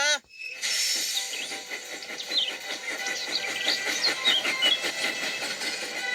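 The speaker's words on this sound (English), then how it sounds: "James puffed proudly into the steamworks." Cartoon steam engine puffing along, a steady train of rhythmic chuffs with hissing steam and a few whistle-like squeals, close and continuous for several seconds.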